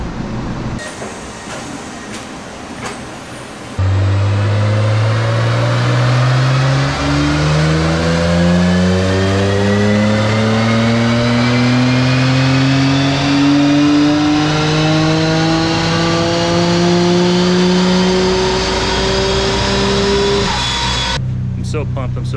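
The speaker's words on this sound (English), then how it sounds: "Well, Doug is doing the last power runs here at the shop" A Nissan Skyline GTR with HKS Step 1 VCAM and DR500 turbos makes a single long, loud, close dyno pull. The engine note climbs steadily in pitch for about seventeen seconds, with brief rattling noises before and after.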